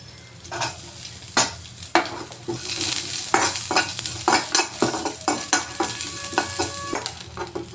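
Curry leaves and small shallots fry in hot oil with fenugreek seeds, giving a close, crackling sizzle broken by repeated spoon strokes scraping and knocking against the pan in a busy stirring rhythm.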